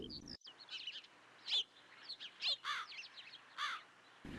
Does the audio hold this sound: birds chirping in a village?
yes